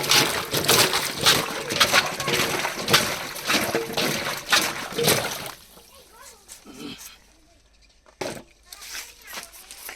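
Green bananas being washed by hand in water, a steady splashing rush for about five seconds that gives way to quieter dribbles and scattered splashes, with people talking over it.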